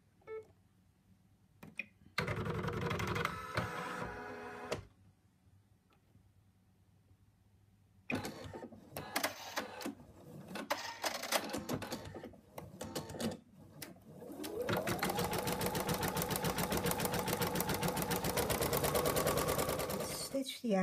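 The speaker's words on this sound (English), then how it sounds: "now we're going to stitch out the outline" An embroidery machine stitches a wallet outline in bursts of rapid, close mechanical rattling, separated by quieter gaps, then runs continuously with a rising hum, while a person talks in between.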